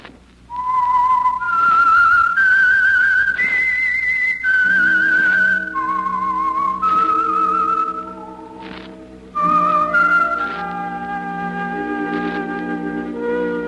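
A clear whistled melody, the theme of the radio drama The Whistler, several sustained rising and falling notes, loud and close, with a low musical backing entering partway through.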